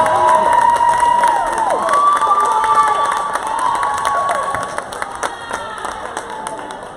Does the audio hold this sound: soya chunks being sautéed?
no